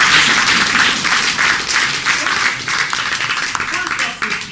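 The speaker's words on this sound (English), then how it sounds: "applause for all of our candidates here this evening" An audience applauds candidates at an evening show: loud, close clapping with audible individual claps, a lively rhythm and a voice over it.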